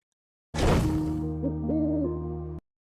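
An owl hoots once, fairly close and clear, a drawn-out tonal call following a sharp onset, with nothing else around it.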